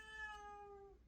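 A domestic cat gives a single drawn-out meow, quiet and somewhat distant, heard alone in a calm indoor space.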